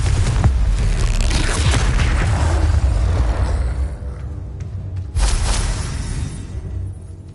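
A Confringo fire spell explodes in the video game Hogwarts Legacy with a loud, booming blast and rumbling whoosh, then a second heavy burst about five seconds in.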